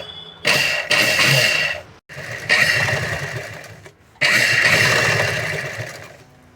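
A sewing machine stitches piping onto a blouse, running in three loud, close bursts of fast whirring with brief pauses between them.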